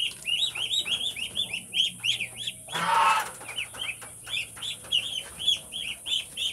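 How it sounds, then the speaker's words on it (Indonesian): Muscovy ducklings mixed in with ducks and chickens peep in quick, repeated high chirps that run steadily throughout, with a brief burst of rustling noise partway through. "Ini anak-anak entok yang sudah turun ke tanah, semuanya campur dengan bebek dan ayam"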